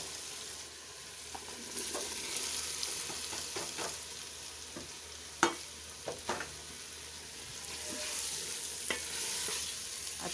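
Boiled potatoes stirred into a spice masala for an aloo katli salan, a soft steady sizzle close by with occasional spoon scrapes and clinks against the pan, no talking.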